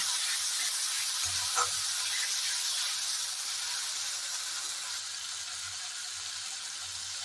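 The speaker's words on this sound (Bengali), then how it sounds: "এবার মশলাটাকে ভালো করে কষবো।" Spice paste with salt fried and stirred in a pan for a Bengali jackfruit and liver curry, hissing and sizzling steadily at moderate volume, with a few faint scrapes of the spoon and no talk.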